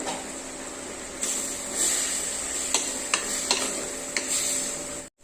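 Tomatoes sautéing with okra in a pan for a curry make a constant close sizzle with a faint hum beneath, dotted by several sharp ticks and scrapes of stirring, with no speech, before a sudden cut at the end.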